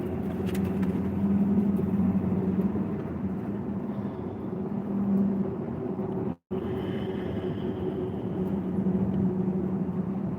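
Inside a 1984 Chevrolet Scottsdale two-wheel-drive pickup with a small 6-cylinder engine, a steady low engine drone and road rumble continue while driving, interrupted by one brief dropout.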